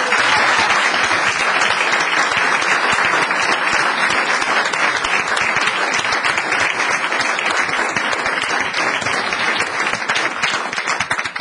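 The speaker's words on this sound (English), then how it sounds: "Let's give them all a round of applause." A room of attendees at a town council meeting giving sustained, loud applause, with dense even clapping lasting more than ten seconds without letup.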